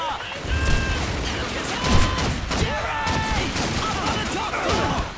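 Sustained covering gunfire in the World War II shooter Call of Duty 2, with rapid overlapping rifle and machine-gun shots, loud and dense, mixed with battlefield clatter and shouted voices.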